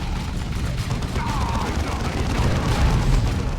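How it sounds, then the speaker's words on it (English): A large explosion in the Dawn of War 2 video game rumbles loud and sustained, with crackling debris over several seconds. "that's a lot bigger explosion than I thought it was going to be"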